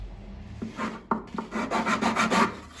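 Sandpaper rubs against the wood of a handmade electric bağlama up close: a few scattered scrapes, then a run of quick, rhythmic back-and-forth strokes.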